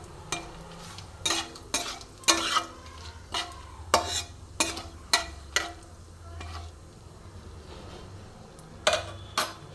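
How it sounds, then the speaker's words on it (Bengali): A spoon scrapes and stirs bay leaf and whole spices frying in oil in a pan, with repeated sharp scraping strokes over a soft steady sizzle, close and without talk. "তো এবার আমি এটাকে ভালো করে নেড়ে চেড়ে নেব"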